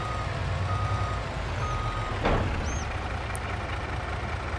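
A truck in the video game Farming Simulator 22 beeps in reverse as its engine idles, a loud, steady idle under short, evenly spaced warning tones.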